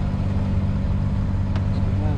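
A sailboat's inboard engine, in an insulated engine compartment, runs at a steady idle, giving a low, even, continuous rumble that stays close and constant.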